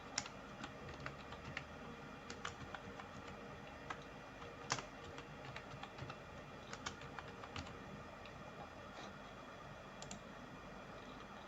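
A password typed on a computer keyboard during a Windows Server 2019 install, a quiet run of irregular key clicks at close range with occasional louder taps.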